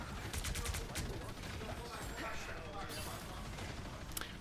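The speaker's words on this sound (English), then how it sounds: "Shooting out of that turret" Rapid turret gunfire from the Punisher in Marvel Rivals during a collegiate esports match, a dense steady rattle of shots running throughout with a commentator talking over it.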